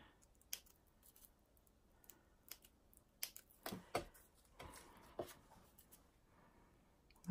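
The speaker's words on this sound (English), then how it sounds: "This pair that I'm using, I believe, are embroidery scissors" Crisp snips of small embroidery scissors cutting crepe paper, close and quiet, coming in an irregular series with pauses between cuts.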